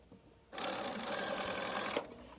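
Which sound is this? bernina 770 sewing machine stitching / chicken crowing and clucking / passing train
bernina 770 sewing machine stitching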